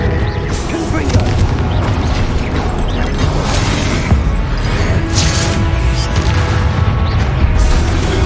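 Confringo explosive spell blasts in Hogwarts Legacy boom heavily and repeatedly during a hard-mode battle, dense and loud throughout, with rumbling bursts layered over constant combat noise.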